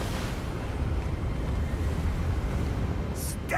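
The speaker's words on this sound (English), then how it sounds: "Ooh, so windy." Wind gusts through a Hogwarts Legacy game scene in a low, rushing roar with a steady, slightly fluttering swell, and a few brief brighter effects near the end.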